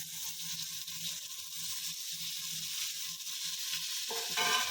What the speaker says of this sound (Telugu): పోపు వేగింది కదా, ఇప్పుడు మనం రైస్ వేసి కలుపుకుందాం